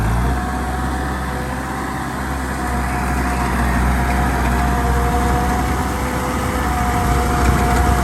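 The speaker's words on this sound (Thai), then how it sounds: "เครื่อง 60 แรงเทอร์โบนะครับ" A 60-horsepower turbo engine drives a rubber-tracked farm tractor with a rotary tiller, holding a steady low rumble with a constant hum and faint whine, loud and unbroken throughout.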